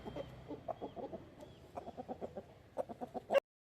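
A 13-month-old, roughly 3 kg country rooster offered for sale clucks in a quick, steady run of short, close, fairly loud notes, with no voices over it.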